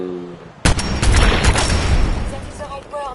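An artillery barrage in the video game Fallout 4 starts abruptly after a brief voice, a sustained rumbling volley of loud booms and blasts that rolls on for several seconds, with faint tonal sounds near the end.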